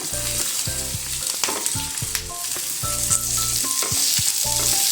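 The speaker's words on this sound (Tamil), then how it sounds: "இதையும் நல்லா வதக்கிக்கணும்" Chillies and two onions sautéing in a pan for chickpea kurma, a loud steady sizzle with a spatula scraping and tapping the pan in short repeated bursts, and a low background hum.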